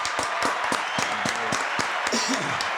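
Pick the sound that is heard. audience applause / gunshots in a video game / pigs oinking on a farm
audience applause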